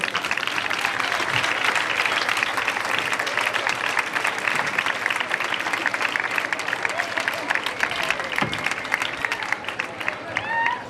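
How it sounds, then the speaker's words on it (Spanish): Audience applause fills a school anniversary celebration at IES Maestrat, a steady dense wash of clapping that runs throughout, with a few voices and cheers mixed in and fading slightly toward the end. "Un aplaudiment per a ell."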